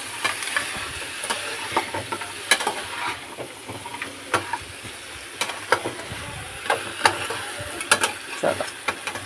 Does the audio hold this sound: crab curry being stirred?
yes